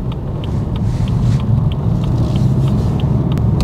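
A car driving on the road gives a steady low engine and tyre rumble from inside the cabin, continuous and fairly loud with faint higher ticking over it, and no talk.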